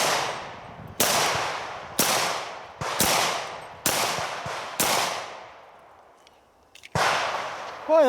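Kimber Ultra RCP II pistol fired in six sharp, loud shots about one second apart, a short pause, then a seventh shot, each crack ringing out with a brief decaying echo.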